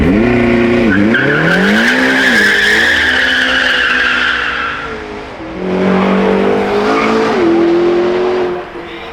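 Ford GT supercar driving at the Goodwood Festival of Speed, a loud engine rising and falling through gear changes with tire squeal, sweeping close past and easing away.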